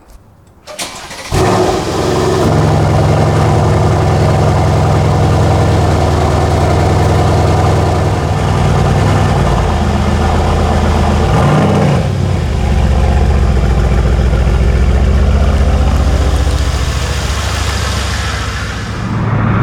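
A Mercedes-AMG C63 S engine cold-starts with a sharp crank and flare, then settles into a loud, steady, deep idle. The rumble stays close and continuous to the end, with no talking.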